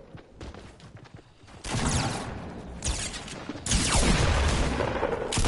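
Gunfire in the Fortnite video game, bursts of shots and loud blasts that start faint and grow into dense rattling volleys in the second half.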